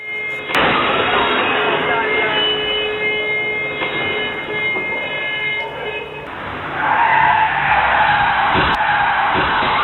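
A car crash during an unpermitted film shoot in Kochi, captured on CCTV: loud sustained tyre skid and engine roar with sharp impact thuds, sounding tinny and narrow.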